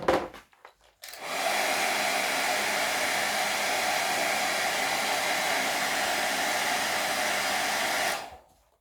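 A heat gun blows steadily on carbon wrap film over a motorcycle fairing, a loud continuous airy roar that starts abruptly after a brief pause and cuts off near the end.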